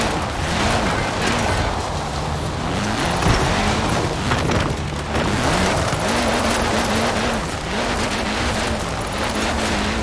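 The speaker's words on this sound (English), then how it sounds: "Now let's really shred those tyres" Car tyres squealing and shredding while drifting in the video game Forza Horizon 4, a steady engine roar with wavering tyre screeches rising and falling over ten seconds, loud and continuous.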